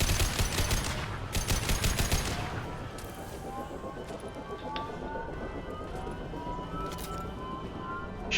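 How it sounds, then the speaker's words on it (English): Mass Effect 2 gunfire, a dense rattle of rapid shots for the first two seconds, then faint scattered combat noise and brief sharp reports, with voices mixed in. "Firing a high-impact shot."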